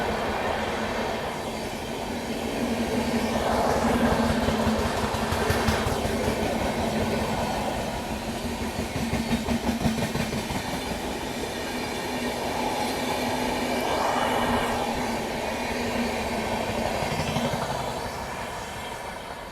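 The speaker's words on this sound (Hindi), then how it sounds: "ये है 12156 हज़रत निज़ामुद्दीन राडी कमलापति भोपाल एक्सप्रेस," Express train on the Nizamuddin–Rani Kamlapati Bhopal route passing close by: continuous loud rolling rumble with rhythmic clickety-clack of wagons and faint wheel squeal, steady for about twenty seconds before easing off.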